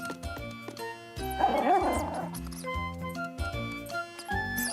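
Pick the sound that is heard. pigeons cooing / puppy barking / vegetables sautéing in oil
puppy barking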